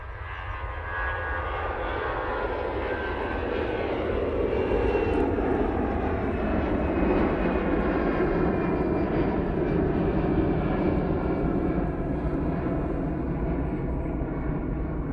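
An EasyJet jet airliner takes off from Manchester Airport, its engines a loud, steady broadband roar that builds and holds throughout with no talking.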